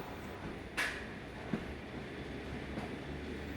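AC EMU electric train running from Chennai Beach toward Chengalpattu, a quiet steady rumble heard from inside the carriage with a couple of brief clicks and knocks, no talk.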